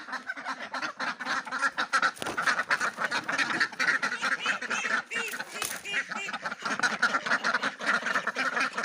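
A crowd of ducks at a poultry farm quacks continuously and loudly at close range as they come for feed, overlapping calls forming a dense, chattering din.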